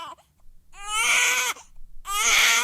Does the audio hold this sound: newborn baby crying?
yes